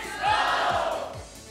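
A studio audience shouts back loudly in unison, a brief swelling roar of many voices that rises quickly and tails off within about a second.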